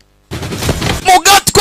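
Movie gunfire erupts after a short silence and a rough noisy stretch: several sharp, loud shots crack in quick succession near the end.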